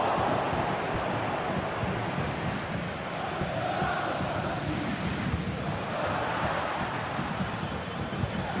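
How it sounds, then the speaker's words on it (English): A crowd cheers and roars at a football match in a video game. The wash of stadium noise is dense and continuous, swelling slightly at moments, with no breaks throughout. "the crowd are certainly responding to the good play that they're seeing"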